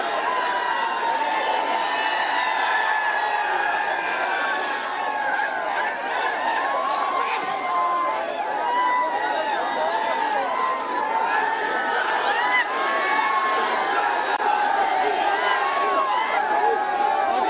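Crowd cheering and celebrating in Maharashtra as Maratha reservation demands are won under Manoj Jarange Patil, a dense continuous roar of many voices with shouts and chatter, loud and steady throughout.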